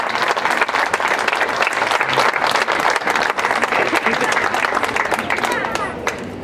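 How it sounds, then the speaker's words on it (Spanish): Sustained audience applause fills a formal municipal council ceremony, dense steady clapping from a large room of people, loud and continuous before tapering slightly at the end. "este aplauso es para ti"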